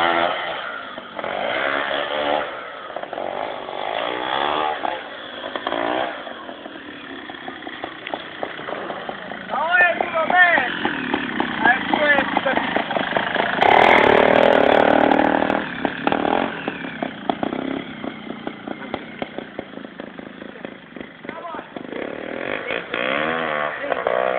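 A trial motorcycle engine buzzes and revs in rising and falling surges, loud and nearby, with people talking over it throughout.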